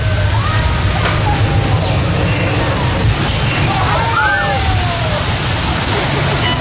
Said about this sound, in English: This flash flood was actually created when we released a tank filled with thousands of gallons of water up at the top of our hillside there.